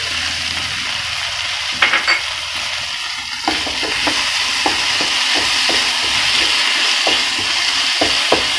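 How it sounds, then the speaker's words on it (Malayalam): Chilli chicken sauce with tomato sauce bubbling and sizzling in a pan, a steady hiss broken by repeated light spatula scrapes and taps as it is stirred, with no speech. "സോസ് ഇങ്ങനെ ബബിൾ ചെയ്ത് വരുന്നതാണ്."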